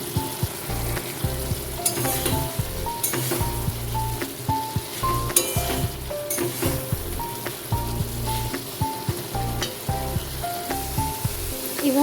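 Soybeans and potatoes frying with spices in a pan, stirred continuously: an even crackling sizzle mixed with frequent light scrapes and taps, over a faint tonal background.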